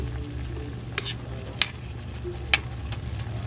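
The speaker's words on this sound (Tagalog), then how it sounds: "Yan ang pagluto ng napakasimpleng adobong kangkong." Adobong kangkong, water spinach adobo, frying in a pan with a steady low sizzle and a few sharp spatula clinks as it is stirred, close and without talk.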